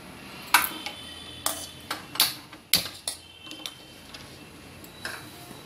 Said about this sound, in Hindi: अब मैं गैस ऑन करूँगी।